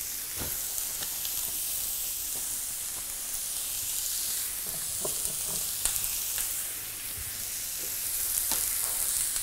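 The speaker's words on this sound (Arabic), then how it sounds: "هنا لازم يتحمر بس قبل ما يتحرق باش نبقى نقلب فيه" Vegetables frying in a pan with mustard and soy sauce: a steady, close hiss and sizzle runs throughout, broken by small pops and the clack of stirring.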